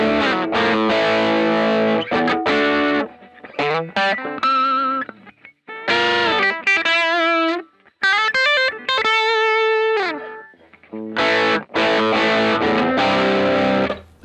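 Electric guitar played through a Friedman Pink Taco overdrive pedal, distorted chords and single-note riffs in bursts separated by short pauses, loud and close.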